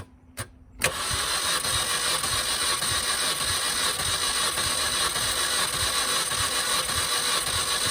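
A starter cranks a 2005 Mini Cooper S engine during a compression test with the starter jumped out, beginning with a click and then droning loudly and steadily with rhythmic compression pulses until the end.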